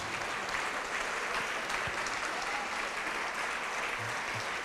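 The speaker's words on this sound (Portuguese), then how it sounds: "Vamos aplaudir ao nome de Jesus." A church congregation applauding, a steady wash of clapping throughout, distant and fairly soft.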